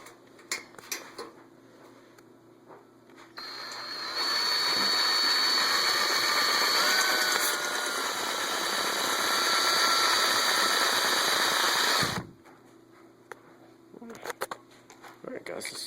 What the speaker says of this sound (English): let me show you how to drill the holes out. So you're going to want to do is just get your drill in there.